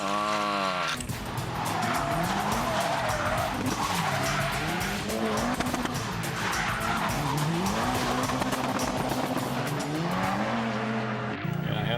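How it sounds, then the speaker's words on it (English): A drifting car fishtails, brakes and spins out, its engine revving up and down in waves beneath long squealing tire skids that run nearly continuously and sound loud and close. "do this fishtailing and as much braking as he can, back up, and spin out of there like this"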